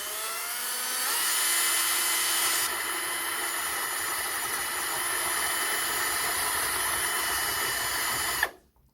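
A power drill runs steadily and fairly loud at low speed, boring gently into a wooden baseboard during model railway point wiring, its whine holding for about eight seconds before cutting off abruptly.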